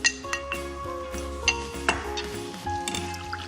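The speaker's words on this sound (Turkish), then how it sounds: "Nişastamı Suyumun içine ilave ettikten sonra güzelce karıştıracağım" A spoon stirs starch into water in a metal pot while making Turkish pelte, giving a few quiet clinks and scraping taps against the pot in an irregular rhythm, faint and close, with no voices.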